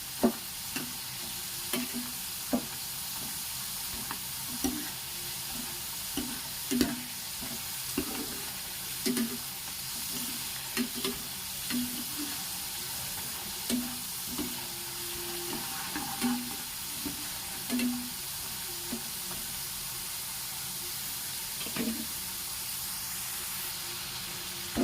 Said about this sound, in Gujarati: તો આ રીતના આપણે બધી બટેટાની ચિપ્સને તળી લેવાની છે।